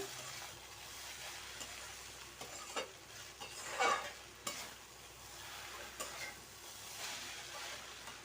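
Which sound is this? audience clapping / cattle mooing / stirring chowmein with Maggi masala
stirring chowmein with Maggi masala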